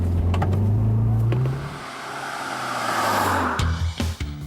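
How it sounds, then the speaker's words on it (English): A 231-horsepower Audi S1 quattro hot hatch accelerates hard, its engine note climbing in pitch through the revs, easing off midway, then rising again with a sharp gearchange blip near the end. "The car has a 231 horsepower engine and permanent Quattro all-wheel drive, and today Mathis plans to see if it can liv"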